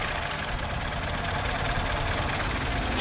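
Engine of a VAZ-2106 idling after an idle-speed fault was fixed, a loud, close, steady rumble with an even mechanical knocking pulse that continues without a break.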